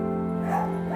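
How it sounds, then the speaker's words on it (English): A dog barks amid a hum of steady tonal background noise, one short bark close by within the brief moment. "Why is everyone barking?"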